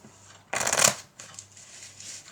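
Two packets of playing cards riffle-shuffled together at close range, heard as one brief, crisp, fluttering burst lasting under half a second, with quiet room tone before and after and no talking.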